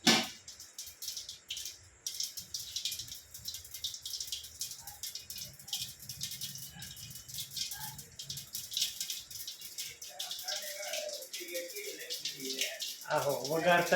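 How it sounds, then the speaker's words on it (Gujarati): Mustard seeds, cumin and sesame crackle and sizzle in hot oil during tempering in a home kitchen, a steady frying hiss lasting throughout with a voice talking over it. "હવે વઘાર કરવાનું કામ ચાલુ છે."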